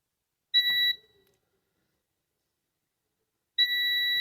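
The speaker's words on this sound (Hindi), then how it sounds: "बजर आ रहा है इसमें भी आ रहा है" A multimeter's continuity-test buzzer beeps on a phone circuit board during a no-service fault repair: one short, loud, steady electronic tone, a few seconds of silence, then a second identical beep that continues to the end.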